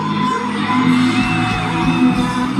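A crowd shouting and whooping at a live event, a loud, continuous wash of overlapping voices with sustained whoops rising above it, heard close for a few seconds.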